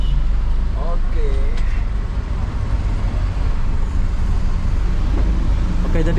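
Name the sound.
riding Trans Batam bus through city traffic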